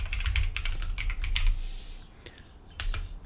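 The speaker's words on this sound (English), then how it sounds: "I can just type plain text in here" Typing on a computer keyboard while writing JavaScript code: a quick run of close, crisp key clicks in irregular bursts, pausing briefly before a final few taps.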